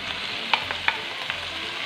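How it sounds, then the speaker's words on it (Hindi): Chopped onions fry in a pan for keema with green beans, a steady close sizzle with a few faint scrapes of a spoon, no voices. "प्याज को सबसे पहले फ्राई कर लेते हैं।"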